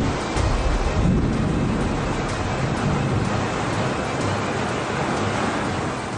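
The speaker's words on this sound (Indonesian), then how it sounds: "Akibat hujan deras disertai badai yang mengguyur daerah Jabodetabek" Heavy rain and storm over the Jabodetabek area around Tangerang, a dense, steady roar of broadband noise with rumbling low end, loud and continuous with no talk.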